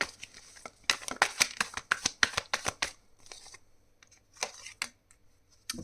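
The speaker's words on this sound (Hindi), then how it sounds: "आपके कार्ड भी निकालना चाहती हूँ मैं" Tarot cards are riffled and shuffled in quick, crisp bursts, then drawn and laid down with a few lighter flicks, heard close and with no talking.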